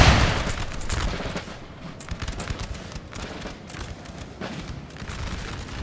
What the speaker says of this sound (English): Artillery going off.